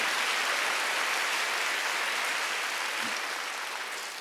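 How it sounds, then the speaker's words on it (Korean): A church congregation claps loudly and continuously for about four seconds, a dense, even wash of many hands that tapers slightly toward the end. "박수 세게 쳐봐요."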